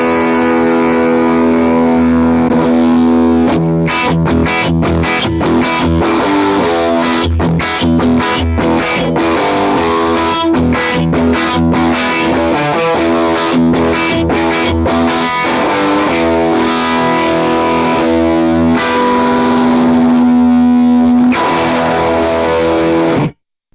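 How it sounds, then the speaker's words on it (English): Electric guitar played through a spitty, gatey, Velcro-like fuzz pedal, loud and sustained with choppy gated stops between chords, a doubler effect thickening it near the end, with no talking. "that is going to be more of kind of like a spitty, gatey, Velcro-y fuzz type of thing"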